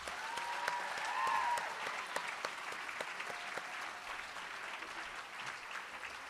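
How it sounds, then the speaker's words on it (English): An audience claps for the judges at a youth judicial trial and awards event, a steady round of applause that swells briefly early on, then continues at an even, moderate level from a distance in a large room. "Our judges, let's give them a big round of applause."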